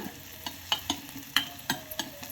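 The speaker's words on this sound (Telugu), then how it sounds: "ఇప్పుడు ఉల్లిపాయలు బాగా వేగినాయి కదా" Onions fry in a pan for a mango relish while a spoon stirs them, giving soft sizzling under a string of sharp scraping strokes about every half second, close and fairly quiet.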